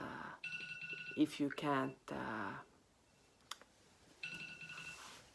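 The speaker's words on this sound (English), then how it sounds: "Something is ringing here. Yeah, there's a timer. Not for me, but for the cake." An oven timer rings for a cake that is baking, sounding in two separate bursts of bright, steady electronic ringing with a person talking between them.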